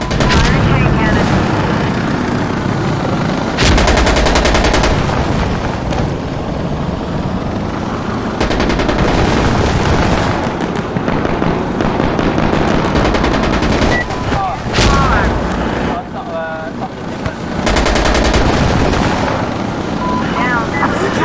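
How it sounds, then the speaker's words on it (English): A chain cannon fires in long rapid bursts in the online shooter Insurgency: Sandstorm, loud and close, with booming impacts and a helicopter drone beneath; player voices speak over parts of it. "Firing chain cannon."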